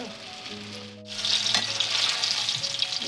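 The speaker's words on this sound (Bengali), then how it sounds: "এক পিঠ করে ভেজে নেব" Chhana (cottage cheese) eggs fry in hot oil; a quieter start gives way, about a second in, to a sudden, loud, dense sizzle that holds steady to the end, with faint music behind it.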